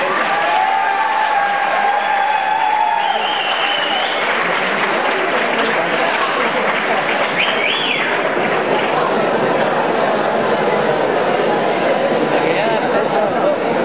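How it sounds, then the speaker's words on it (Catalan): Loud sustained applause from an audience at a school graduation ceremony for bachillerato students, continuous and dense throughout with a voice speaking briefly over it at the start. "Un fuerte aplaudimiento."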